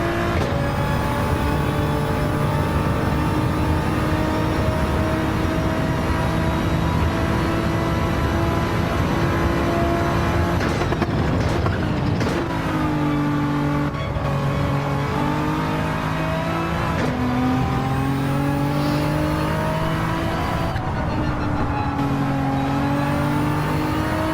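Race car engine at the Catalunya circuit pulling away in third gear, a loud steady whine that rises in pitch, drops at gear changes and climbs again, continuous throughout with no voices.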